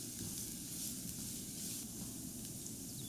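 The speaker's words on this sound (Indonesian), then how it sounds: "Tumis sampai harum dan agak sedikit kecoklatan." Steady crackling sizzle of minced garlic sautéing in hot oil, continuous and close, with no voices.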